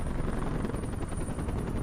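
A helicopter in the Tokyo Ghoul anime drones with a steady, rapid rotor chop, loud and continuous throughout.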